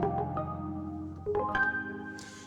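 A soft sampled Hydrosynth synthesizer patch plays a few rich, jazzy chords in sequence, mellow and sustained, ending with a faint airy hiss.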